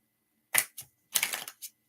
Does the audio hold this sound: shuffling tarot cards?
yes